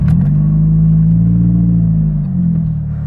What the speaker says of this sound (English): you turn your car on